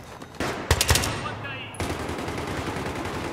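Automatic gunfire in the video game Battlefield 3: a short, sharp burst of rapid shots, then a dull rumbling background and another noisy surge, loud and close with some voice in the mix.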